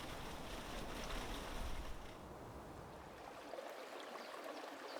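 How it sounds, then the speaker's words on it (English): Broad, steady rushing of water tumbling through tubs of plastic bio-rings at a fish hatchery fed by a deep well, a continuous churning wash with no talking. "The water tumbles through tubs of these bio-rings"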